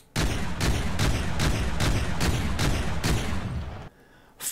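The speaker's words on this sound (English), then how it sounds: "it's basically some kind of autocannon heavy machine gun" An APS autocannon heavy machine gun fires in the game From the Depths, sending out about nine loud, evenly spaced booming shots in quick succession before it stops abruptly.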